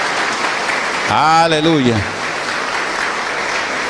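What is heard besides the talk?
applause in church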